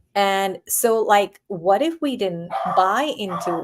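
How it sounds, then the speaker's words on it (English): A pet dog yips and whimpers in short, pitched bursts in the background, mixed in with a person talking steadily in the foreground. "sorry, that's my dog"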